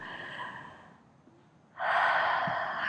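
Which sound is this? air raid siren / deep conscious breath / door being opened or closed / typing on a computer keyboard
deep conscious breath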